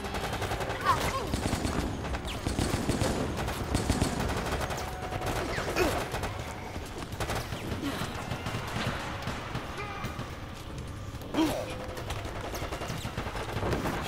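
Scattered bursts of semi-automatic rifle fire in the video game Resident Evil: Operation Raccoon City crack out at intervals over a constant background rumble, with a few sharper single shots standing out.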